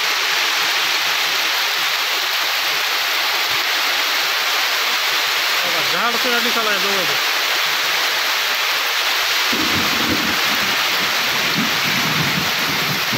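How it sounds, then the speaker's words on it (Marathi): Heavy torrential rain pours steadily over a soybean field as a dense, continuous roar; a voice speaks briefly partway through, and lower rumbling noise rises near the end. "एकदम मुसळधार पाऊस चालू आहे."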